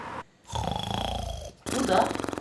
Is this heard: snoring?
yes